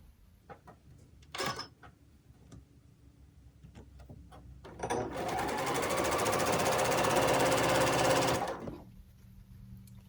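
A sewing machine stitches quilt squares in one steady, close run of about three and a half seconds, preceded by a few faint clicks and taps of handling fabric.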